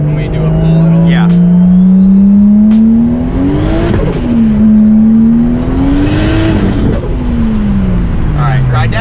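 A 1400 hp turbocharged, 2JZ-swapped Honda S2000 roars hard through a power pull, its engine note climbing in pitch, dipping at a shift and climbing again. The sound is very loud and close, with voices faintly mixed in.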